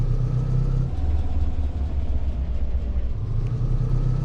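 Van engine driving in the Ranch Simulator video game, a steady loud low rumble that holds its level throughout with a slight shift in pitch, no talk over it.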